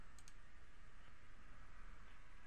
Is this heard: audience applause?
no